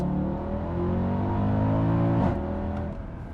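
A 2011 Mercedes E63 AMG with its 6.2L V8 pulls hard, a loud, steady engine drone climbing through the revs, then easing off briefly near the end.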